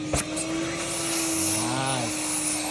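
A vacuum cleaner sucks sawdust off a DIY wooden dining table, a steady whining roar close by with a brief clack at the start and a voice speaking faintly underneath.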